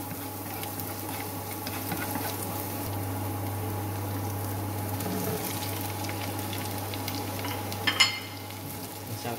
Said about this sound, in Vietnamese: mình sẽ cho thơm vào để mà mình chiên thơm nó đi, xào thơm đi.